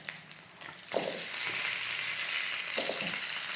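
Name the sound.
frying spices and pork trotters in wok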